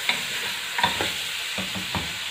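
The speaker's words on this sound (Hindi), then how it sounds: "जब गोश्त को डालेंगे तो वो थोड़ा चिपकेगा, आप उसको जल्दी जल्दी से उतार लें साइडों पे से।" Beef pieces fry in a hot pan for a bone (bong) salan, with a steady sizzle under a few sharp scrapes and stirs as the sticking meat is worked off the sides.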